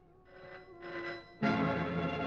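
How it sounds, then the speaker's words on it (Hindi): An old-style telephone bell rings in two short bursts indoors, followed by a louder, fuller ring that continues to the end. "लगता है उन्हीं लोगों को फोन है।"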